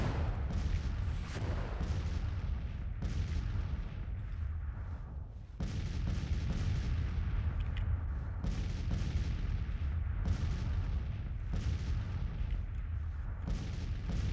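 Artillery fire from a Grand Tactician Civil War battle, Confederate campaign in spring 1861: continuous distant cannon booms and scattered gunfire roll steadily for the whole stretch, dense and rumbling with no voices.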